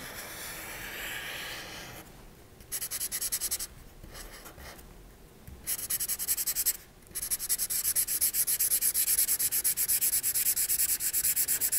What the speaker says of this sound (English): I'm using a Sharpie marker here, and I'm going to draw around it